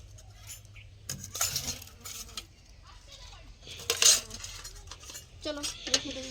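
Metal plates being washed, with clanking and clinking bursts of metal against metal in several separate clusters between quieter stretches, close by, with faint voices in the background.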